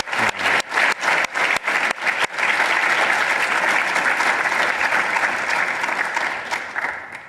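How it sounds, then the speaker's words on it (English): An audience at an academic installation ceremony gives a round of applause. A few sharp, separate claps quickly swell into dense, sustained clapping that fades gently at the close. "Let's give a round of applause for the Miner."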